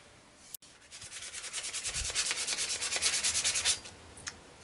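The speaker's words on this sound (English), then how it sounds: "this is just 180 grit sandpaper" Sandpaper of 180 grit rubs back and forth over the finish of a Cold Steel Frontier Hawk, a run of quick, even rasping strokes close up that builds, holds steady, then stops.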